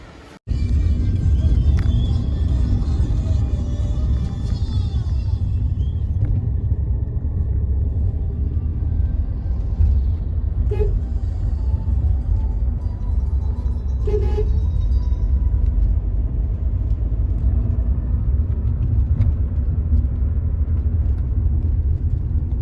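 A family car rolls along the road with a constant low engine and tyre rumble heard close from inside for the whole stretch, and a couple of brief higher tones like a distant horn toot appear partway through.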